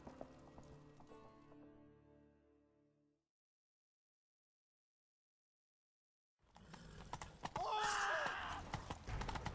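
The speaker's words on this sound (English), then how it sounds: "Grab a horse, we'll chase him down." Horse hooves clip-clop at a run in The Witcher 3 game, loud and near, breaking off into silence for a few seconds before resuming amid busier game noise.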